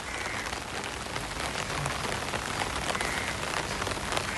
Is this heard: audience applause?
no